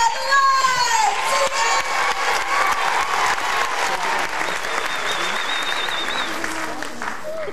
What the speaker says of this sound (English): let's give a big round of applause for Disney Doug Light!